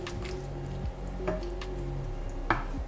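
Roasted vegetables and potatoes are stirred together in a pot, giving soft wet squelches and a few dull knocks against the pot, close and moderately quiet.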